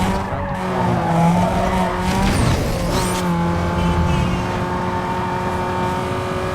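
A race car in Need for Speed Underground 2 slides with tires squealing loudly, a sustained skidding screech over a steady engine drone that swells briefly midway, then settles into the continuing engine hum.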